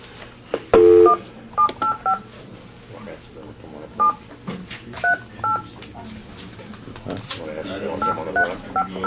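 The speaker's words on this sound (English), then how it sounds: "Let me get Doug on the phone then" Touch-tone dialing on a telephone at a commission meeting: a run of short DTMF beeps in uneven bursts over several seconds, heard under room murmur and low background voices.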